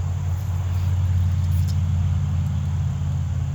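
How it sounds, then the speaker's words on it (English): Cars pass along a nearby road near an outdoor archery range, a steady low rumbling wash of traffic that stays fairly loud and constant throughout with no voices. "the car's going up and down the road"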